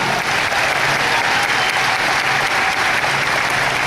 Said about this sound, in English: So give yourselves a huge round of applause for that as well.